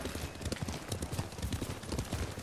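Horse hooves clip-clop in a steady, quick rhythm in the video game Ghost of Tsushima, close and continuous, with no voices.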